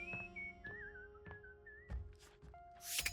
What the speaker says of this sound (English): Who was whistling?